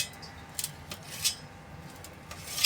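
A knife chops steamed fenugreek muthiya, dumplings of wheat, maize and gram flour, into small pieces on a board, giving a run of light irregular taps and scrapes close by with no talking.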